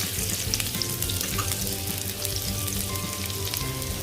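Garlic added to ginger already frying in oil for a beef stir-fry gives a steady, close crackling sizzle with no talking.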